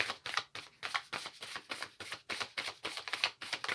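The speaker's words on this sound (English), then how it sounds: "I'm never sure how I should shuffle these cards because they are way too big for my hands." Oversized oracle cards being shuffled by hand, a rapid run of papery riffling bursts close to the mic in an irregular rhythm, with no talking.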